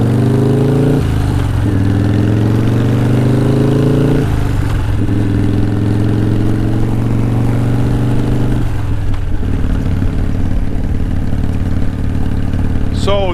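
A 1988 Harley-Davidson Softail Custom's engine runs loud and close, idling with a deep steady rumble that shifts pitch a few times as the throttle blips, with no one talking over it.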